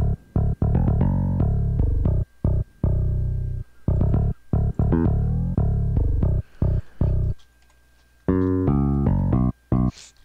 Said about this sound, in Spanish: saqué este MIDI, es un MIDI de una línea de bajo medio funk